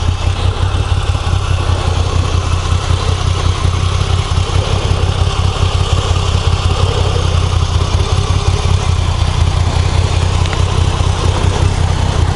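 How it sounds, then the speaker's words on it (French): Moto Guzzi V85 TT with an air-cooled V-twin engine idling, a steady, loud, close low throb with an even rhythmic pulse that holds unchanged throughout, no talking. "voilà ce que ça donne avec les phares allumés et ce moteur en V face à la route"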